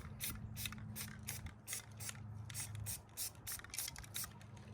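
Spray primer hisses onto a foam decoy outdoors in short repeated bursts, about a dozen quick sprays in a steady rhythm, close and fairly quiet over a low background hum.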